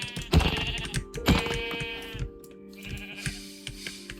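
Sheep in the video game Minecraft bleat loudly and close by, two or three wavering calls in quick succession, with no talking over them.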